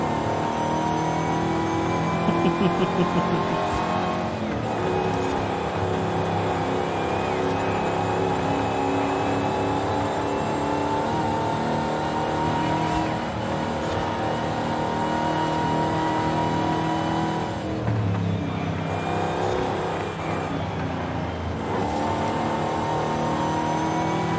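A 1969 Dodge Charger Daytona engine roars loud and close, holding a steady throaty drone with rising and falling revs and brief dips between pulls, with no talking.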